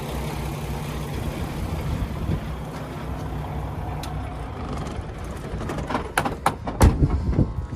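A 2016 Peterbilt 579 truck's diesel engine idles with a steady low rumble, then shuts off, leaving a few clicks and clunks nearby.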